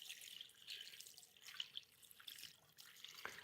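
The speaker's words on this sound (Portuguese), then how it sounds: "Eu vou sair aqui rapidinho numa torneira. Eu vou jogar água aqui" Tap water runs and drips onto orchid seedlings as they are rinsed free of culture medium, a soft steady trickle with small splashes, faint and close, with no talking.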